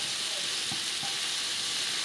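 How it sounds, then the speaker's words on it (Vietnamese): Shrimp frying in a pan, a dense, constant sizzle close up with two soft stirring or turning clicks partway through; no one speaks. "Và mình chiên cái mặt bên kia cho tôm vàng."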